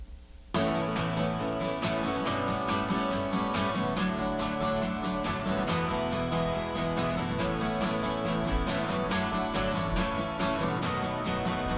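Several acoustic guitars layered together and strummed in fast, even strokes that stand in for a hi-hat or shaker part, forming a dense, bright, continuous wash of rhythmic strumming at a steady level.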